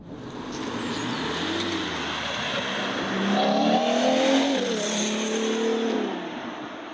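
A powerful Ferrari Purosangue SUV engine drones steadily, then revs higher and surges before settling back, heard from inside the moving vehicle with road noise.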